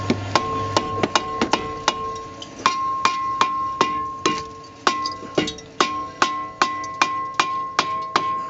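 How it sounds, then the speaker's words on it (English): Repeated dull knocks of a plastic mallet striking a metal brake rotor to loosen it, roughly two blows per second, each leaving a short ringing tone; close and steady throughout, no talking. "basically just want to hammer on it, try and get it loose"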